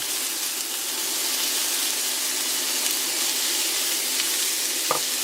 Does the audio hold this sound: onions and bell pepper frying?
yes